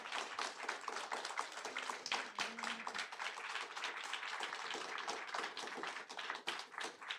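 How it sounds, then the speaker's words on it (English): A room full of people applauds the panelists at the close of a panel discussion, steady crowded clapping at a faint, distant level that runs for several seconds, with a brief murmur of voices partway through. "I'd like to give a round of applause, please, to our panelists."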